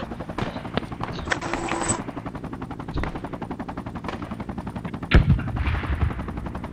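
Gunfire from a house on the left in the Project Reality military shooter: sustained rapid automatic bursts in a steady rhythm, broken by a sharper, louder close shot near the end.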